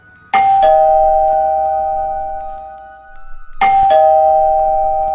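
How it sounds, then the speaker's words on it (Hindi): A doorbell chimes twice, each a bright two-tone ding-dong that rings out and slowly fades, loud and close in a quiet room. "तभी डोरबेल बज उठती है।"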